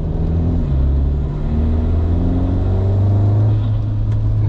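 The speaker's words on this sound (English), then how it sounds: "I thought you wouldn't be able to hear the intake like at all" A Volkswagen MK8/8Y car engine fitted with a Blaze Atom aftermarket intake hums and rumbles steadily while driving, with a loud, close drone that swells slightly as it pulls.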